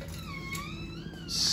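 A cat gives a drawn-out, wavering meow, fairly soft and close, with a brief higher sound at the end.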